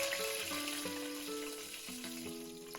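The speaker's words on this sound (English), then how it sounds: "Now, the curry leaves. Now you can put the green chilies." Green chilies and curry leaves sizzle and crackle in hot oil with a steady, close hiss, while a melodic tune plays prominently over the frying.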